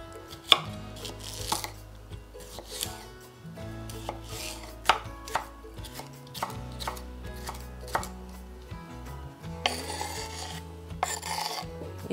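A knife slices a fresh cucumber on a board for crab stick salad, a run of crisp, rhythmic chops with short pauses, close and distinct. No one speaks.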